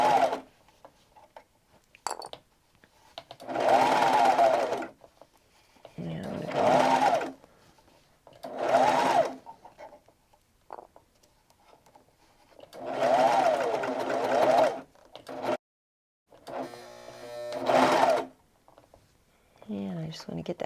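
A serger stitches the seams of a fabric hanging organizer in several loud, close whirring runs of a few seconds each, with someone talking in the pauses between them.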